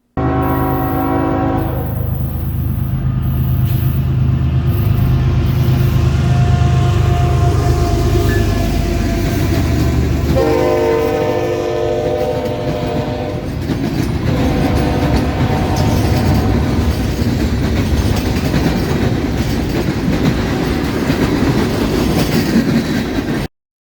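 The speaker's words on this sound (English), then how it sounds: "After working the interchange with Alabama and Gulf Coast Railway in Kimbrough, Alabama, 183 would roll through Thomasville," Freight train 183 rolls through Thomasville, Alabama after working an interchange, its horn blaring in long sustained blasts over a steady rumble and clickety-clack of railcars, loud and close throughout.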